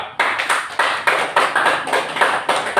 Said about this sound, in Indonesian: Tepuk tangan yang meriah untuk kelompok 2.